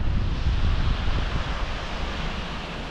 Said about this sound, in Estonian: lihtsalt nii jõhker vastu tuul on